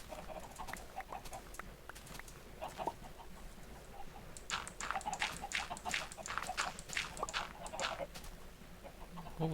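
Chickens in Minecraft cluck softly and repeatedly, with a denser burst of quick clucks in the middle, quiet and close with no talk.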